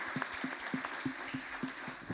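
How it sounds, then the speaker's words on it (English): Audience applause at the close of a session at the ICRP 2025 conference in Rome, a steady wash of clapping from a moderate-sized crowd, fairly faint and even throughout. "let's give our speakers one last round of applause"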